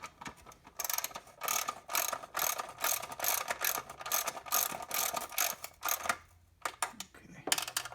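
A socket ratchet tightens valve cover bolts on a 1979 Chevy Camaro, its rapid clicking coming close in repeated bursts with short pauses between strokes.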